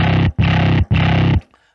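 Two heavy, buzzing distorted notes from an instrument fed through a Logic amp preset for a Mad Max Fury Road cue, loud and close with a brief break between them, then a quick decay.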